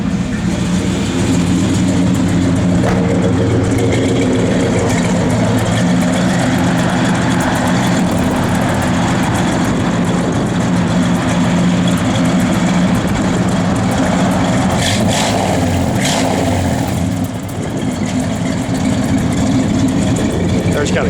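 A 1968 Chevrolet Chevelle idles at a steady, loud, continuous low rumble throughout, with a few brief knocks and clatters partway through and a slight dip near the end.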